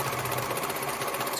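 A sewing machine runs a straight stitch from corner to corner on a tool storage roll, a steady, loud, rapid mechanical whirring and clatter with no talking.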